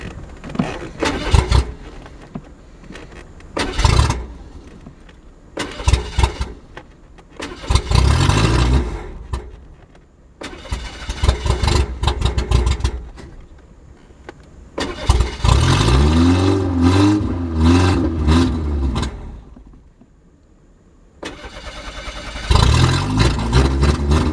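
A junkyard Ford EXP engine cranking and catching as the gas pedal is pumped, bursts of revving separated by pauses, with one long rough run near the end, loud and close.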